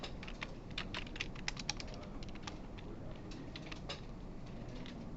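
A computer keyboard clatters with rapid, steady keystrokes at moderate distance, continuous and fairly quiet, with no voices over it.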